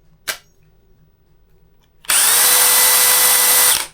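A brief click, a pause, then a cordless drill on a lithium battery pack whirring at a steady high pitch on speed 2 for under two seconds before stopping, loud and close.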